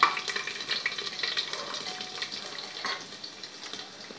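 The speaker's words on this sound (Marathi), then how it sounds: "लसणाला थोडंसं फ्राय होऊ द्यायचं आहे।" Chopped garlic fries in a pan with curry leaves, a steady close crackling sizzle with occasional stirring scrapes, no talk over it.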